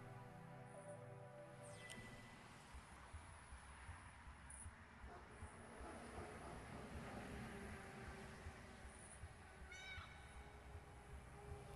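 A cat meows in a video game, heard over continuous game sounds with a rumbling, train-like background throughout.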